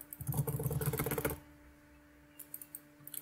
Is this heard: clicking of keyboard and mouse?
yes